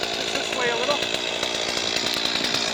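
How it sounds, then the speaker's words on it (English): A chainsaw cuts through hardwood tree limbs, its steady high-revving whine running throughout at close range while a person talks over it. "it's going to be a whole lot faster with the chainsaw here today"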